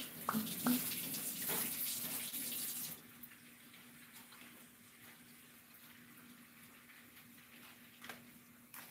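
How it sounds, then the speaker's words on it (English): Hands rinsed under a running kitchen tap while cooking, a steady close hiss of flowing water for about three seconds before it thins to a faint trickle with occasional splashes. "This time I rinse my hands off."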